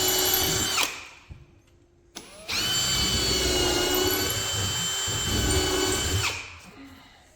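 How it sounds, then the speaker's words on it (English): A power drill pre-drills holes for construction screws through wooden studs, with a short whine, a brief pause, then a longer steady high-pitched drilling run close to the microphone. "Pre-drilling the holes so that we can then put our construction screws in and attach it, the horizontal stud to the vertical stud right above it."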